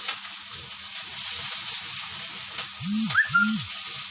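Onion, green chillies and curry leaves fry steadily in a pan for bread upma, a continuous close sizzle with a couple of brief tonal chirps near the end and no talk.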